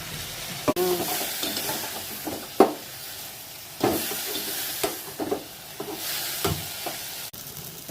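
Onion, tomato and green chili sauté in a pan for fish curry, a steady broadband sizzle broken by intermittent stirring scrapes and clinks of a utensil against the pan.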